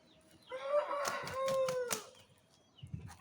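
An Aseel rooster, a game-fowl breed, gives one long drawn-out crow close by, rising and then tapering over about a second and a half, followed by quieter rustling.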